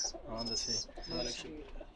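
Breeder pigeons kept at night in Sharafia, Jeddah, coo in soft repeated phrases, close by, with a faint chirp mixed in.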